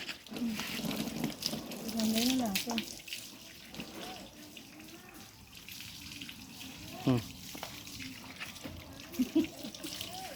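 Water runs steadily from an opened tap, a continuous rushing flow heard up close while people talk over it.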